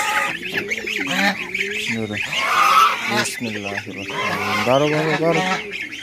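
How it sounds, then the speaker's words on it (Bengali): Geese squawk and honk as they are let out of their pen on a village homestead, loud overlapping calls close by, mixed with a voice talking over them. "দেখি প্রথমে রাজহাঁসগুলো ছাড়ি"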